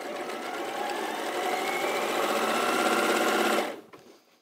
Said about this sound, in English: everything that you're putting through the sewing machine now is on the bias